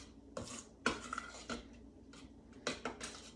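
Caramel mixture for a Holy Cow Cake stirred in a pan, heard as a few sharp clinks and scrapes of a utensil against the dish, spaced irregularly and fairly quiet, with no talking.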